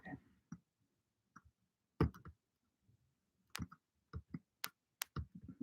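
Computer keyboard keys clicking as someone tries to copy and paste during an online class, heard as sparse, irregular, faint taps and clicks with quiet gaps between them.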